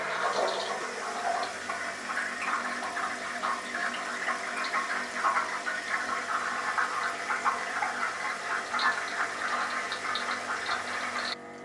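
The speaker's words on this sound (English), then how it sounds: "open up the boil pot, open up the pump and switch her on" A brewery pump whirlpools plain water in a boil pot, making a steady rushing, swirling gush of liquid that holds at an even level throughout.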